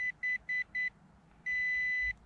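A Nokta Makro PulseDive metal detector gives four short electronic beeps in an even rhythm, then one long steady tone, its strongest signal, clear and close.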